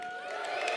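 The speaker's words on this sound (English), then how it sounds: "We've got a good cheer for option A." A lecture audience cheering together for option A, a brief burst of crowd noise and voices at moderate distance.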